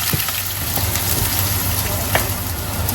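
Onions dropped into hot sunflower oil with cinnamon, cloves, cardamom, mustard seeds and fennel, sizzling and crackling loudly and continuously up close, with occasional pops.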